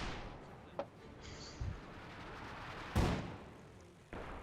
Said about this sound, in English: Right now getting blasted by artillery.